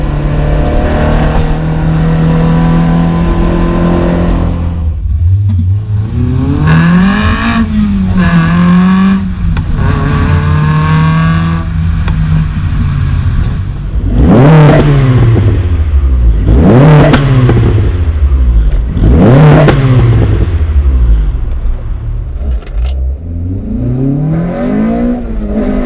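A Honda Civic EK4 with a B18C6 engine and individual throttle bodies revs hard from inside the cabin, rising and falling through repeated loud high-rpm pulls and gear changes on track.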